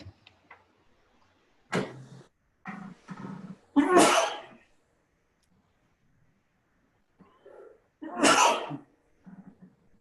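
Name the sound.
sneeze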